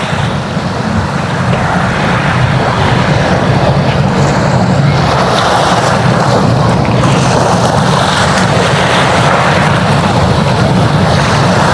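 Waves surging and crashing along Manila Bay after heavy rain, a continuous loud wash of surf with rolling breakers and wind buffeting the microphone throughout.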